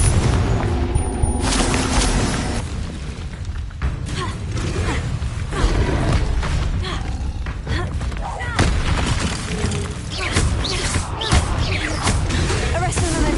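Confringo fire spells exploding in the Hogwarts Legacy video game, a dense run of loud booms, crackles and impacts layered over game effects and music for the whole stretch, with a voice casting spells in between.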